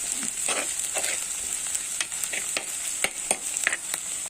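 Prawn and raw mango curry stirred in a sizzling pan after salt goes in, a continuous close frying hiss broken by repeated scraping strokes of a spoon roughly every half second, with no voices.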